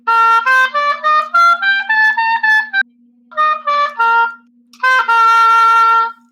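An oboe plays short, clear melodic phrases with a bright reedy tone, broken by a brief pause midway before a final held note, close and fairly loud.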